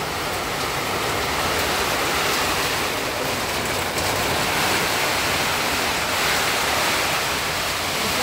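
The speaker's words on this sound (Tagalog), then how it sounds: "masyadong malakas ang ulan dito" Heavy typhoon rain pours down at a house, a dense, loud, unbroken roar of falling water that fills every moment without pause.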